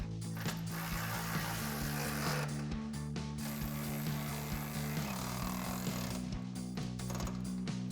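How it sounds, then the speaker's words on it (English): An 18mm socket on a ratchet wrench tightening a suspension bolt on a Jeep Wrangler JL during a Teraflex 2.5-inch coil spring lift install, giving close, repeated clicking ratchet strokes in short bursts. "And then tighten everything down with the 18mm socket and wrench."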